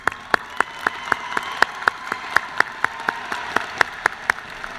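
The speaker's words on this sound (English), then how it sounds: "Let's applaud the business graduates." Audience at a fall university commencement ceremony applauding business graduates, a steady wash of clapping with distinct sharp claps at a regular pace standing out near the microphone.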